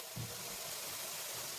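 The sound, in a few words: onions frying in a pan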